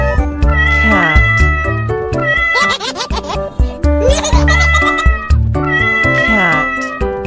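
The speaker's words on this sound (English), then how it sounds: "cat," A cat meows repeatedly in a steady series of loud, close, drawn-out calls over a layer of bright musical accompaniment, with no talk.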